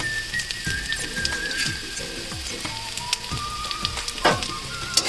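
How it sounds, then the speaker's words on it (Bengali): Carrots and garlic frying in a pan give a steady close sizzle, with a run of rhythmic scraping stirs at the bottom and a few sharp clinks and spatters near the end, no voices. "হালকা ভাজা ভাজা হয়ে এলে এর মধ্যে দিয়ে দেবো কিছুটা পেঁয়াজ কুচি।"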